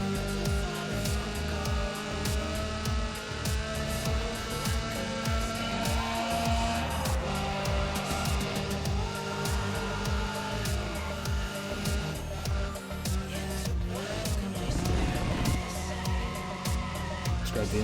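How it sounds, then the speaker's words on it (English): Loud, raspy engine and exhaust drone of an unupgraded street car with a loud aftermarket exhaust in the racing game Need for Speed ProStreet, steady and continuous with rapid gear-shift dips and some tire squeal, no talking. "a loud exhaust."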